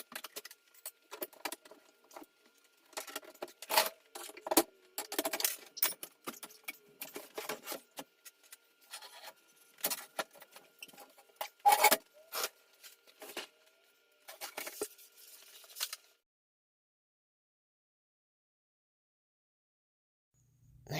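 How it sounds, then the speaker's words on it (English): Screws being undone by hand from the face frames of a kitchen cabinet, metallic scraping and clicking in irregular bursts for about sixteen seconds, then silence. "Now here I'm trying to undo the screws that screw the face frames together. And I'm doing it by hand"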